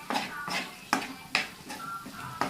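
Potatoes stir-fried in a pan while making a methi bhaji, giving repeated scraping and clinking strokes of a spatula against the pan about every half second, close and moderately loud, with no talking.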